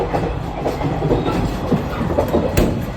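Inside a train travelling through northern Japan toward Morioka and Aomori, the rolling rumble of the carriage on the rails carries on steadily at close range, with rhythmic clickety-clack beats and a brief sharp squeal near the end.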